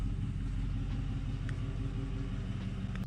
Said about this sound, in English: So now I'm gonna back this thing out of the garage and we'll go for a test drive.